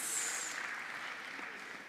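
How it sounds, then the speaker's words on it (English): Audience applause for a moderator and panelists at a panel conversation event, a steady, soft wash of clapping from a crowd that holds evenly throughout. "please, a round of applause for our moderator and the panelists"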